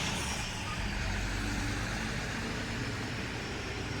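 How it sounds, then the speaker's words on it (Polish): A garbage truck passes by outside, its broad rumbling engine noise steady and loud throughout, with no talking over it. "Niech przejedzie ta śmieciarka tylko."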